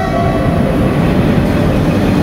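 A Chinese-made KRL commuter train on the Jakarta Kota to Bogor line, a loud, close, continuous rumble of the carriage running along the track with dense low roar and steady rolling noise.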